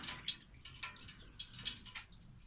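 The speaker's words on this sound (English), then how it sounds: "We'll let it drip." Liquid drips off a helmet soaked in oxalic acid and candle wax, a scatter of faint, irregular close-up drops with small splashy ticks over a quiet background.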